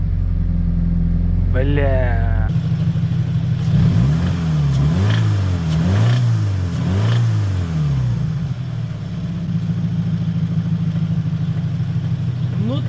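A Scion FR-S with its Subaru engine idles, then is revved several times in quick succession, each rev climbing and falling back, before it settles to idle again; a short spoken word comes early on.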